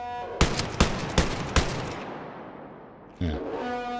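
Gunfire in the video game Wolfenstein: Youngblood, four sharp loud shots spaced about half a second apart, each ringing out before fading, followed by a short burst of other game noise.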